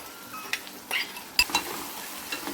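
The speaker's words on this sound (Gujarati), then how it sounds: "હવે આ શાકભાજી પણ આપણે મિક્સ કરી દીધા છે" Boiled vegetables being stirred in a pan with a spoon for a Gujarati rotli shaak, a few soft scraping and clinking strokes with quiet gaps between them, close by, no voices.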